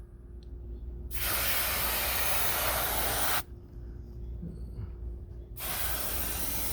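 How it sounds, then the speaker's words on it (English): AMSOIL aerosol silicone protectant sprayed onto faded plastic engine-bay trim of a Mercedes SL550, two bursts of loud, close, steady hiss separated by a short pause. "it's my favorite aerosol that AMSOIL puts out"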